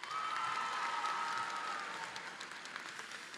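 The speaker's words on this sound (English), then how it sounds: "So graduates, please give them a big round of applause." Graduates at a University of South Carolina Upstate commencement applauding, a broad, moderately distant wash of clapping from a large crowd in a hall, sustained and slowly easing.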